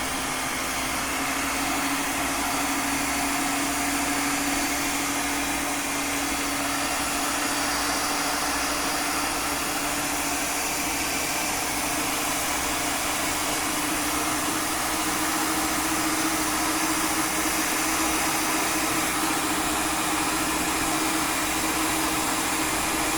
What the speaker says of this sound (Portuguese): Então eu vou ligar aqui na batedeira.